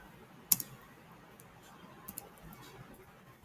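Computer mouse clicks, a sharp double click followed by a few fainter clicks later on, in a quiet room.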